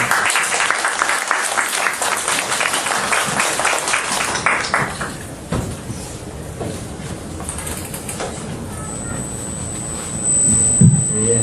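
A church congregation claps loudly in sustained applause for a missionary, thinning out midway, leaving sparse claps and room noise before a brief swell at the end.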